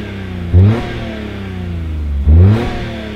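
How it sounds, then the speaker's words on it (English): A Daihatsu engine idles close by and is blipped twice, each rev rising sharply then falling back to a steady idle, loud and without talk. "So what about if I rev her up a bit?"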